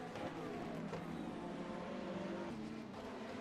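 An LMP2 prototype race car drives through the roller-coaster section at Portimao in a racing game, its engine a steady droning whine with a rough, choppy edge, heard close and continuous.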